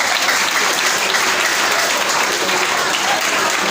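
A school audience at a founder's day gala award night breaks into loud, dense, sustained applause, steady clapping filling the hall without pause.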